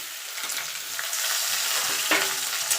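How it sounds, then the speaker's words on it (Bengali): Cubed potato and papaya hit hot oil for a Bengali-style niramish vegetable curry, setting off a steady, close sizzle with light stirring scrapes throughout. "এবার এই তেলে আমি সবজিগুলো দিয়ে দেবো। আগে আলুটা দিয়ে দেবো, পেঁপেটাও দিয়ে দেবো"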